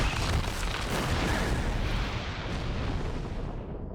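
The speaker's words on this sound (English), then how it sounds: "The explosion just completely demolished the whole middle of the ship." Pyrotechnic explosion demolishing the middle of a ship on a film set: a broad, rumbling blast that roars continuously for several seconds and slowly fades, heard from a distance with no voices.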